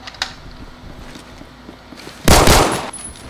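A single loud, close shotgun blast in Phantom Forces, a sharp crack with a booming tail after a few faint earlier shots in the background.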